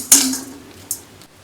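Roasted lentils poured out of a pan in a home kitchen while making rasam powder, giving a short bright rattling clatter followed by a few lighter clinks of metal.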